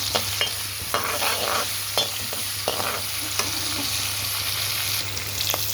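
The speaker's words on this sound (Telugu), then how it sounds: "ఓన్లీ కొద్దిగా ఆనియన్స్ వేగడానికి వేస్తున్నాను ఆయిల్ ఆయిల్లోనే వేపేస్తున్నాము" Onions fry in oil with a steady close sizzle while a spoon stirs them, scraping and tapping the pan in irregular knocks throughout, with no one talking.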